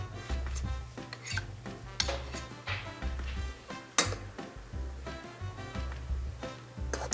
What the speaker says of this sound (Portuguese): com a ajuda de 2 colheres eu vou fazer a minha quenelle de merengue